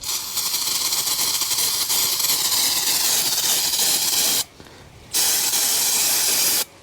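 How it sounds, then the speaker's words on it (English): Brake cleaner sprayed from an aerosol can during a tractor oil change, a steady loud hiss lasting about four seconds, a brief pause, then a second burst of spray. "What's that? Brake cleaner."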